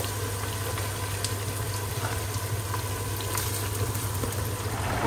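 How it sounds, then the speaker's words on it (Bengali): Onions cooking in a pot as the base for a roast give a steady close bubbling, sizzling simmer with a constant low hum underneath and no voices. "রোস্টের জন্য পেঁয়াজ দিয়ে দিলাম আগে"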